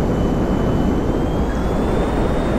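An aircraft in GTA 5 comes in to land, with a steady, loud jet engine roar and a thin whine running throughout, without pauses or voices.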